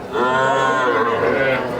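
Crossbred cattle at a large livestock market give one loud, close, drawn-out moo lasting well over a second, with a low crowd murmur underneath.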